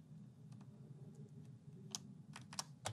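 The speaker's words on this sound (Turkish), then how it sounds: "Mesela escape tuşumuzu takalım." A mechanical keyboard, the Ajazz K620T 60% model, gets its escape keycap pressed on, giving a few faint, scattered plastic clicks and taps over a low background hum.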